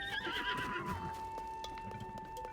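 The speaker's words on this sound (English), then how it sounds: "Stay here, horse." A horse neighs in the Legend of Zelda video game, a single clear, high whinny that rises and then trails off over a quiet sustained background tone, with soft hoof-like knocks after it.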